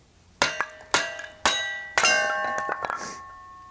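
A 16-ounce hammer strikes a cone splitter to split firewood: four sharp, ringing metallic clangs spaced about half a second apart, each decaying with a bright bell-like tone, followed by a few smaller clinks.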